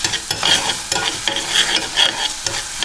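A spatula scrapes and stirs sugar glaze for caramelized pork belly in a hot pan, rhythmic strokes every half second or so over a steady sizzle, close and clear with no talking.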